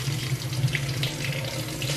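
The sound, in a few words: water running from tap, filling a container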